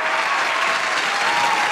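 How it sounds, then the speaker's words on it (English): A crowd claps in a continuous, dense round of applause, steady and fairly loud throughout with no voices over it. "Let's give a big round of applause,"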